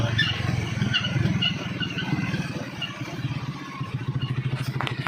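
A motorcycle engine runs close by with a steady, rattling mid-pitched throb that holds for several seconds, pulsing slightly louder toward the end.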